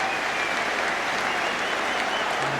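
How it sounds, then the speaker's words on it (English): Football crowd in a stadium applauding a player's bit of skill during a 2000 league match, a broad, even roar of clapping from the stands. "The applause is for Jermaine Wright, who showed a tiny bit of skill there."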